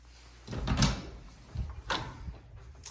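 A bathroom toilet door in a new-build master suite opening or closing, with a soft thump and handling noise followed by a second, lighter knock a second later, fairly near and with no one speaking.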